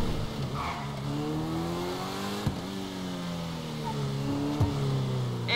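Car engine in GTA V revving and droning steadily with rising and falling pitch, two sharp knocks or impacts punctuating the drive, continuous and fairly loud throughout.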